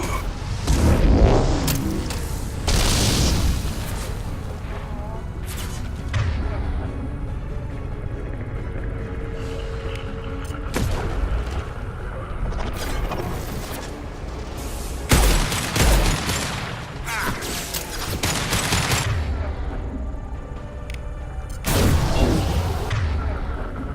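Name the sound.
impact shot being fired in the video game Mass Effect 2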